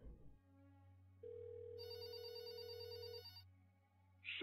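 In the video game There Is No Game, a telephone rings without being answered, giving a single electronic ring tone over a low steady hum, fairly quiet.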